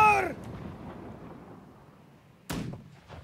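Ship cannons firing in the naval game Black Wake: a sharp booming blast at the start, then a second heavy shot later, with quiet rumble between.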